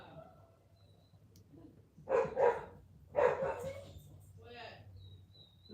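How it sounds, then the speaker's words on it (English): A dog barks in the distance, two short bursts of sharp barking, faint beneath a quiet background hum and a few murmured words. "The dog you hear has issues."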